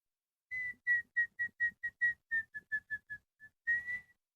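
A person whistles a scale imitating El Silbon's call, about a dozen short clear notes that climb and then fall, heard alone and fairly close.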